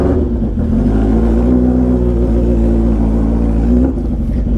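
A stretched 2007 Suzuki Hayabusa motorcycle engine is held at a loud, sustained rev close by, its pitch climbing slowly and then dropping near the end, with no voices over it.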